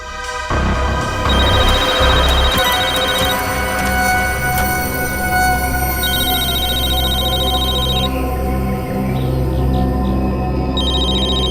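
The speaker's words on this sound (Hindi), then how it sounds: "सर, फोन रिंग हो रहा है।" A telephone rings steadily with a bright trilling tone that repeats over a low, droning background, loud and continuous, with no voices.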